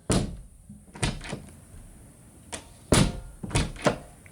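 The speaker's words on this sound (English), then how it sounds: "we can test the door once again" A door that had a sagging, rubbing hinge is swung shut and tested several times, giving a series of loud thunks and knocks spaced a second or so apart with no talk over them.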